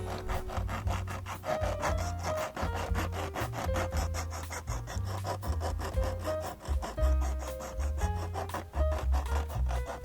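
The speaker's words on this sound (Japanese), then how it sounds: "ヤスリで表面に浮き出た部分を削ります。" Steady back-and-forth rasping of a metal file smoothing raised louver detail on an old Katsumi KiHa 82 model train car, close and continuous with regular strokes and no talk.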